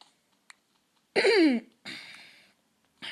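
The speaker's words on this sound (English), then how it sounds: "I have to keep clearing my throat" A person clears their throat twice with raspy, gravelly bursts separated by a short pause, preceded by a faint click.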